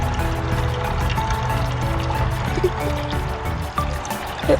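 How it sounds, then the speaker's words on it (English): Water runs steadily from a tap or container over a knife being washed at a campsite, a continuous close trickle and splash with small clinks of the blade. "So right now I am gonna wash this knife."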